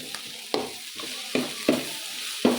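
Maize kernels being stirred in a pan for a Karnataka-style fried corn tempering (usli), with about five distinct scraping strokes over a steady background sizzle and no voices.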